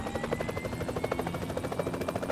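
Aircraft engine drone in the video game PUBG Mobile, a steady rotor-like buzzing hum with rhythmic pulsing that holds close and continuous throughout, with no talk over it.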